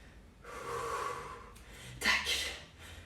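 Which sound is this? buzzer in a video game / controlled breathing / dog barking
controlled breathing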